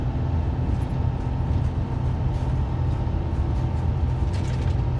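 Steady, droning jet engine roar from a simulated Airbus A350-1000's Rolls-Royce engines, with a constant low rumble and a faint hum, continuous and unchanging throughout.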